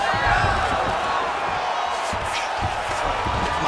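A loud arena crowd roars and cheers steadily during a UFC 5 fight between Jean Silva and Mikuru Asakura, the noise continuous and dense throughout, with a commentator's voice faintly mixed in.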